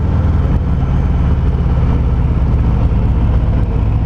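A 2019 Harley-Davidson Fat Boy motorcycle engine rumbles steadily and loud throughout a ride in low gears, a deep continuous throb with slight rises as the throttle opens.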